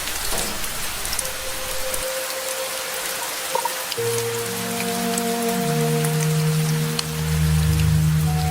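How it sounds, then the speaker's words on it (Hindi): Heavy rain pours steadily in a village setting, a dense hiss of drops on surfaces, while tonal hums and music-like tones rise and overlap in the later half. "आज तो लगता है बहुत तेज बारिश होगी।"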